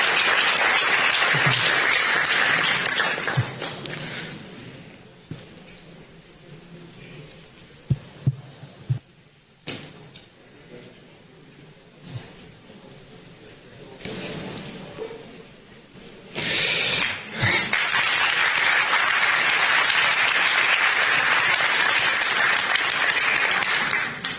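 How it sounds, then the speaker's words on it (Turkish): Audience applause at a film talk event, a full burst of clapping at the start that thins out and drops to scattered claps and quiet, then swells back to sustained applause toward the end. "Kendilerini alkışlıyoruz"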